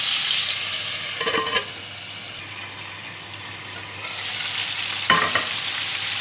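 Beef burger patties fry in a covered pan with a continuous crackling sizzle, close and moderately loud, broken twice by brief clinks and scrapes of a utensil or lid.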